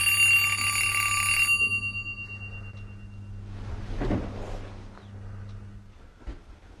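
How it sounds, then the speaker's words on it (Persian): A bright electronic telephone ring sounds for about a second and a half, then stops, leaving quiet room noise and a soft thump. "تلفنو بردار."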